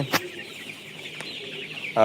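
CPF-3 tiger chickens on a farm give soft clucks with a couple of sharper calls, close by against a quiet background, with no clear talk.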